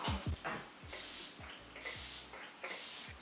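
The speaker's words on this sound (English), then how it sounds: "So I'm gonna take the NYX Bear With Me Prime Set Refresh Multitasking Spray" Three short bursts of NYX Bear With Me Prime Set Refresh setting spray, each a soft hissing puff of fine mist lasting about half a second, spaced evenly with quiet gaps between.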